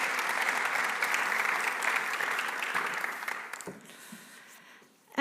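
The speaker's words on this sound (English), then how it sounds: "a big round of applause for you." An audience at an evening expert discussion on committing to wind energy claps in sustained applause that thins out and fades near the end, heard from a moderate distance.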